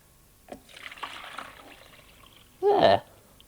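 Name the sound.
liquid jelly poured into a jelly mould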